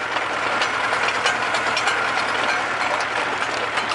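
Tractor PTO shaft spinning fast at 1,000 RPM, a steady whirring mechanical drone with a rattling, gear-like texture and engine hum underneath, loud and constant with no talking.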